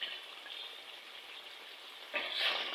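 Chicken karahi sizzling in a pan with masala and yogurt, a steady close frying hiss that swells louder near the end, with no talking.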